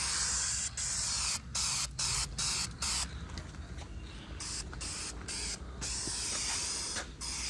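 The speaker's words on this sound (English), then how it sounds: "You see how I'm spraying it just right here on the edge and pointing down so I don't get overspray all inside the crank case there." Spray paint hisses from an aerosol rattle can onto the crankcase edge of a Pontiac 350 engine, coming in repeated bursts of steady hiss with short gaps between them, close up and with no talking.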